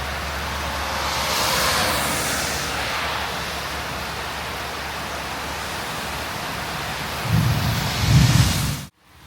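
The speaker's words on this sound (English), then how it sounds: "it's still raining" Steady, dense rainfall hisses throughout, with a couple of low rumbles of thunder swelling near the end before it cuts off, in Thailand between Prachuap Khiri Khan and Huai Yang.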